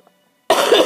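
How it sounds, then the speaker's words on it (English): A single harsh cough from someone with a lingering cold, loud and close, bursting out after near silence. "There's that cough."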